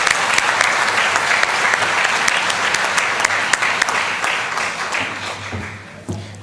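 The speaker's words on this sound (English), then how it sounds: "Let's give them another round of applause." Another round of audience applause for scholarship winners at the 2023 Arkansas 4-H State O-Rama awards ceremony, loud dense clapping from a hall crowd that tapers off over several seconds.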